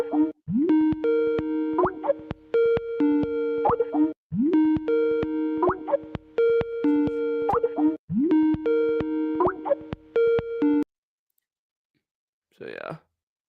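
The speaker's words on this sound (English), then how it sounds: "Here's a classic Skype ringtone if anyone that used Skype might remember." Classic Skype ringtone played from a recording, a bright bubbly electronic melody of plucked tones repeating in several even bursts before stopping, followed by a brief voice.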